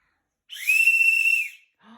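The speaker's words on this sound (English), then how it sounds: "A whistle." One clear, high whistle holds a steady pitch for about a second, then stops; a short bit of voice follows.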